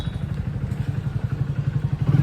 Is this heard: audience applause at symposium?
no